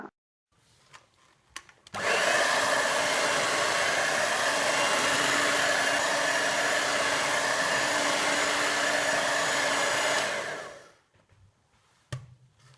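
An electric hand mixer beats fruit cake batter for Christmas plum cake, a steady loud whirring drone running about eight seconds that starts abruptly and cuts off, with quiet bowl sounds before and after.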